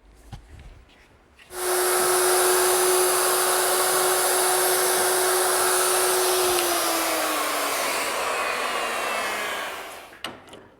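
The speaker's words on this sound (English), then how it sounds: "Here I've equipped my router with this collar, which rides around the inside of the template." A router fitted with a template collar and a mortising bit cuts a mortise into an entrance door, a loud steady high-pitched whine starting abruptly, holding for several seconds, then dropping slightly in pitch as it winds down.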